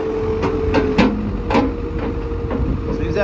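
A New Holland LB75B 4x4 backhoe loader runs with a steady mid-pitched engine and hydraulic hum, broken by repeated knocks and clatters.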